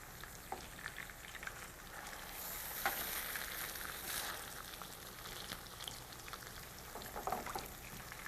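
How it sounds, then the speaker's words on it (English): Fish cakes fry in oil in a skillet, giving a faint, steady sizzle and crackle with occasional soft pops and no talking. "fry them until they turn golden brown on the bottom"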